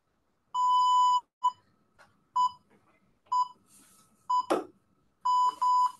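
An exercise interval timer beeps during a seated workout class, a series of short sharp electronic tones in a broken rhythm, clear and close, with a brief rustle in between.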